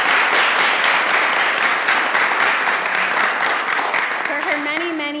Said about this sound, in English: But could we all give Anna Maria Melito a round of applause?